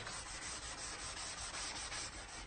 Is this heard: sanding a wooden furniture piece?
yes